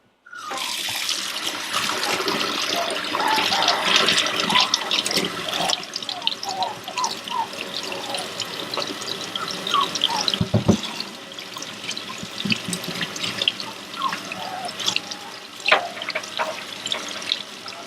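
Tap water runs into a tub or sink to fill a bath for a six-week-old Aussiedoodle puppy, a continuous close gushing splash that starts abruptly and holds for the whole stretch, easing slightly toward the end.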